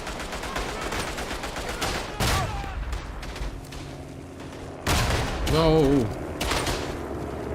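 Gunfire in the World War I video game Tannenberg, with bursts of shots and sharp impacts over game noise, while a player speaks and shouts over the action.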